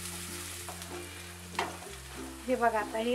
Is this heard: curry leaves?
yes